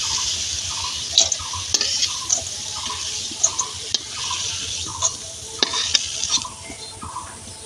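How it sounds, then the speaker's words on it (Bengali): Bean seeds fry in hot oil in a pan for a Bengali mashed-bean dish, giving a steady close hiss broken by regular sharp scraping taps from stirring. "সিমের বিচিটাও আমার তেলে দিয়ে ভাজা হয়ে গেছে।"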